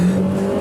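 A Volkswagen army vehicle's small engine revs hard with its wheels spinning, a loud, close, steady roar lasting under a second.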